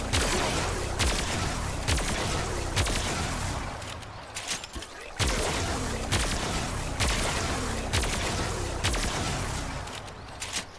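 Repeated weapon shots from an Opticor Vandal in the video game Warframe, loud bursts recurring roughly every second, some with heavier booming impacts, over a dense, continuous layer of game noise.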